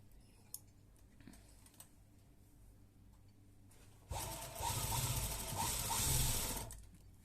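After a few soft clicks and fabric handling, a sewing machine starts a loud, fast, continuous rattling run of stitches lasting about three seconds, sewing the side pocket onto a kurta, with no voices.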